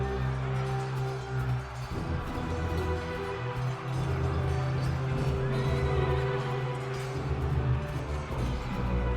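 Horse neighing in a Richard III audio drama battle scene, loud whinnies over rumbling, busy background and hoof-like clatter, close and prominent for the whole stretch with no speech.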